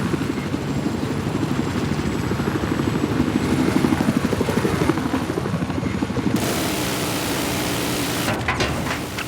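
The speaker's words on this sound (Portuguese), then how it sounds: "Logo ao sul da sua localização, parece haver um helicóptero." A helicopter flies in the video game Battlefield 4, its rotor giving a loud, steady, pulsing drone that shifts tone partway through and turns harsher near the end.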